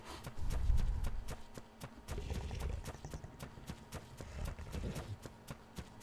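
Horses gallop in Ark Survival Aberration, a video game, with fast repeated hoofbeats that go on steadily for several seconds.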